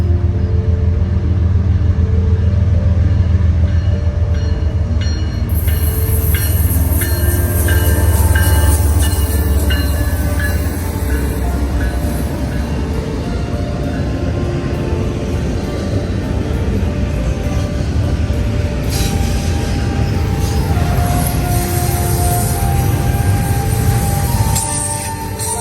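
CN Q107, a northbound freight train, rolls past up close with a steady heavy rumble, wheel and rail clatter, and occasional high squeals running the whole way through without letup.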